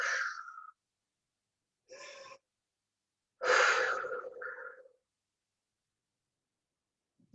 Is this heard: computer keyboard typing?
no